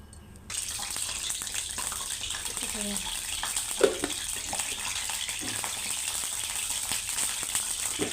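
Oil is added to a pan for a village-style fenugreek (methi) curry, setting off a steady, close sizzling hiss that starts abruptly and carries on evenly with a few soft clinks.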